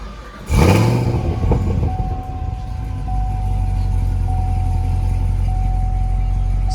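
A 2018 Camaro ZL1 with a six-speed manual cranks and fires up with a loud whooping start, then settles into a deep, rumbling, steady idle close by.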